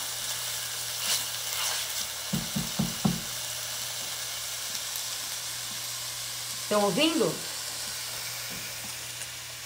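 Onion frying for risotto sizzles in a pan with a soft, steady frying hiss, broken by a few clanks of a utensil and a brief spoken question.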